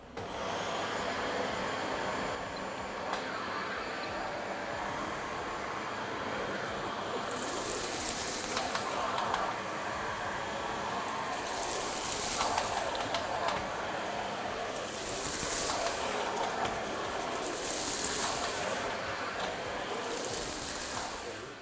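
A Dyson bagless vacuum cleaner running on carpet, a loud steady motor roar and suction hiss throughout, with repeated brighter whooshing surges as the brush head is pushed back and forth.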